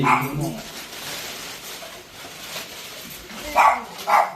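Nearly thirty neglected dogs kept together in a house bark and yip loudly in sharp bursts at the start and end, with quieter whimpering and movement between.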